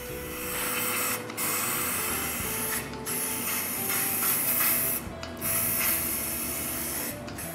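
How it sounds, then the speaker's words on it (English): Wood finish sprays steadily from an aerosol can onto a small wooden piece in bursts, hissing for a couple of seconds at a time with short pauses between passes, close and fairly loud. "I spray four coats like that."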